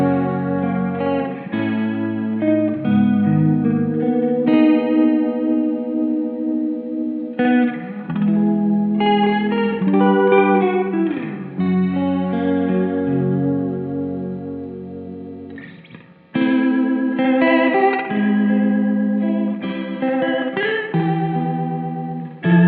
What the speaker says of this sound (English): Use these settings in dBucket mode to get a very nice chorus.